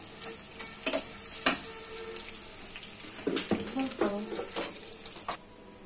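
Red chilies and cinnamon frying in oil in a pan, a steady sizzle with occasional sharp pops and stirring scrapes, fairly close, no talking.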